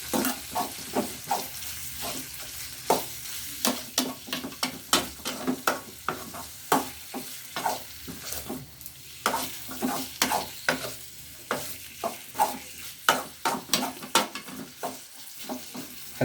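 Chicken liver sautéing in a pan, with a steady sizzle under repeated rhythmic scrapes and stirs of a utensil against the pan, close and fairly loud throughout, with no talking.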